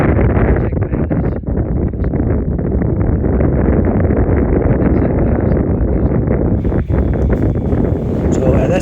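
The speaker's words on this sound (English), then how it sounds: "So at this point, it was really windy." Strong wind buffets the microphone on Loch Chon during a morning of fishing from a small inflatable boat. It is a loud, constant low roar and rumble that fills the whole stretch.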